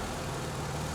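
A 1964 Triumph TR4 engine idles roughly, a steady low rumbling drone heard close and alone for about a second.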